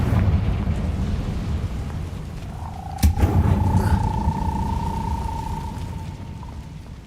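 Confringo fire-blast spell cast in the Hogwarts Legacy video game: a sudden sharp blast rises over a rumbling background, followed by a sustained whistling tone that fades slowly.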